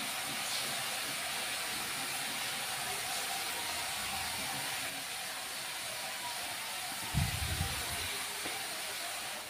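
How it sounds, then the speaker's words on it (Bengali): Moong dal fries in a pan with onion and garlic, giving a constant, even hiss of sizzling throughout, broken only by a brief low thump near the end. "দেখুন এভাবে ভালো করে সময় নিয়ে একটু ভেজে নিতে হবে"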